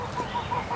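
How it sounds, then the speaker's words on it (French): A goose gives a quick series of short, nasal honks in a steady rhythm, heard at moderate volume. "Qu'est-ce que tu fais avec cette oie, Jim?"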